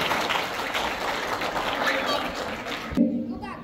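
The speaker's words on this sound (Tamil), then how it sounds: "அவருக்கு ஒரு உற்சாகமான ஒரு கரகோஷம் சொல்லுங்க" Audience applause for a speaker at a Tamil debate event in Canada, a moderate wash of clapping that fades out as a voice begins talking near the end.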